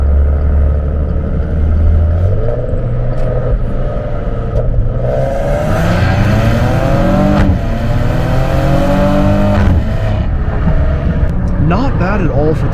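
Loud, close engine roar of a Maserati Ghibli with its naturally aspirated Ferrari-built V6, 345 horsepower, rising through revs as it accelerates, with repeated climbing pitch sweeps and gear changes over a steady rumble.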